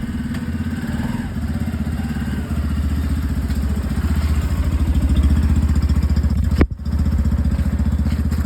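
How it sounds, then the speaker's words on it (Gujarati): A Yamaha FZ-S motorcycle engine runs with a steady, close, throbbing rumble that builds slightly in loudness. A brief thump sounds near the end before the engine continues. "નિધાવ બાઇક લઈને ગાયબ થઈ ગયો થોડીક ક્ષણોમાં"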